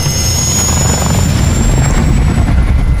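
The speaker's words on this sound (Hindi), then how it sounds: "हेलीकॉप्टर में बैठना है" A helicopter in Call of Duty Cold War roars loudly and close, a steady turbine whine with a thick, rumbling rotor throb held at a constant level throughout.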